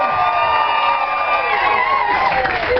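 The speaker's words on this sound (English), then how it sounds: "I think we got to give him a round of applause" A crowd at a steampunk convention fashion show cheers and applauds loudly, with whoops and shouts blending into a continuous roar throughout.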